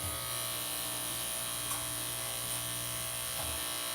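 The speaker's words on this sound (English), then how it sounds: "I'm absolutely in love with this clipper here. It just keeps on going." A cordless electric dog grooming clipper runs close by with a steady, unbroken buzzing hum that holds level throughout, with no talking.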